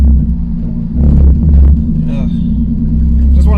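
Deep, heavy engine rumble of a Stage 2 tuned 97 bhp Toyota Aygo swelling as it accelerates hard, loud and close, with a few brief sounds over the droning roar.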